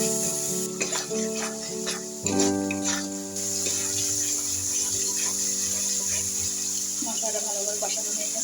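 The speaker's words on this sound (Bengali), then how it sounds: "মশলাটা ভালো করে কষানো হয়ে গেছে" Spice paste of cumin, ginger, garlic, onion and cardamom frying in oil in a home kitchen, a steady sizzle with scraping stir strokes throughout, close and fairly loud, with faint tonal background hum.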